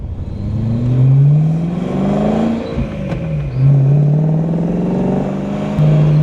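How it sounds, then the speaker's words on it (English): BMW E92 M3 V8 with a Turner exhaust revving hard, loud and close, its rising and falling engine note swelling in two strong pulls with a brief dip between, no talking over it. "This Turner exhaust is phenomenal."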